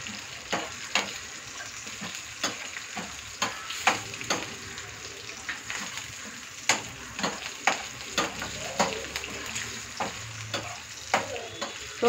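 Dried red chillies and cumin seeds fry in hot oil with a steady sizzle, broken by repeated sharp clicks of a spoon stirring against the pan, close and fairly quiet, no talk.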